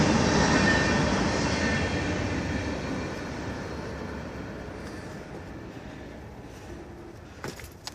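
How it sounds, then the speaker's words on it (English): Train rolling past in the background beside an abandoned waste treatment site, a steady broad rumble and rail noise fading gradually, with a few faint clanks near the end. "Trains going past there"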